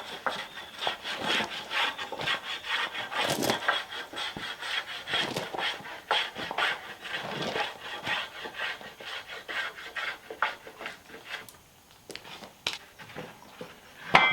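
Repeated rubbing, rasping strokes of a hand tool run along the edge of a sawmill-cut wooden board, knocking off splinters and chamfering it, a close, moderately quiet scraping with an irregular back-and-forth rhythm.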